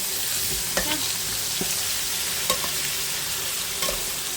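Meat with tail fat sizzles steadily in a pot while being sautéed, with a spoon scraping and stirring in a few distinct knocks against the sides, close up and without talk.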